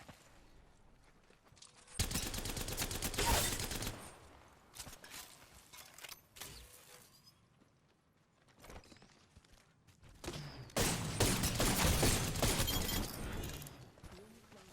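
Bursts of gunfire crackle during an Apex Legends match, two long loud volleys of rapid shots separated by quieter scattered clicks, thuds and movement sounds.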